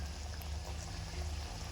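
Strained tamarind water is poured into a pot of ennai kathirikai kulambu, an eggplant curry, making a steady, close, gurgling stream for under two seconds.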